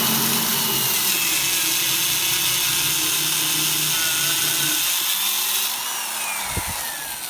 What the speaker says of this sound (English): You can actually drill into that without it just falling apart.